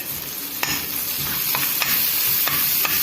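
Green chili frying in a pan for crispy chicken wings: a continuous close sizzle broken by several sharp scrapes of a spoon stirring at irregular intervals.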